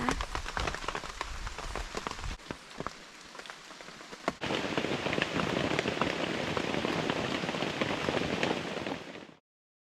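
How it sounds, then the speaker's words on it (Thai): Steady heavy rain pours through a forest at night, a dense continuous hiss of drops on leaves and surfaces, loud and close, broken by a brief sharp crack partway through before the downpour continues unbroken and then cuts off. "เดี๋ยวเรามานอนฟังเสียง ฝนตกกันเนาะทุกคนเนาะ"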